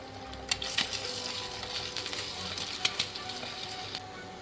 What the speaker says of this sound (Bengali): একটা ডিম ফাটিয়ে আমি এখানে একটু ভেজে নেব।